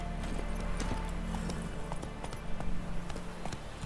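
Horse hooves clip-clop in a steady, even rhythm close by, running continuously over a low background rumble.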